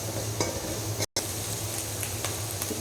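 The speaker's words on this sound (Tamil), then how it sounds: "இப்போது இதில் நம்ம கட் பண்ணி வச்சுருக்கிற கேரட், கேப்சிகம், முட்டைக்கோஸ் ஆட் பண்ணிக்கலாம். இது ஒரு 2 நிமிஷம் நல்லா கிண்டி விட்டுக்கோங்க." Carrot, capsicum and cabbage stir-fried in hot oil for chicken noodles give a steady, close sizzle with scraping stirs, interrupted by one very brief dropout to silence.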